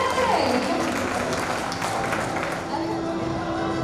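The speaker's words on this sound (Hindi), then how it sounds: "तालियां तो बज रही है यार" Audience applause breaks out at an entrepreneurship and excellence award ceremony, a dense wash of clapping heard throughout, with a voice talking over it.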